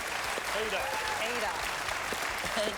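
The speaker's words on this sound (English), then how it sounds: "Round of applause for Heath Shaw, everybody." Studio audience applause on a televised Australian football variety show, a dense steady clatter of clapping that fills the clip with a voice speaking briefly over it.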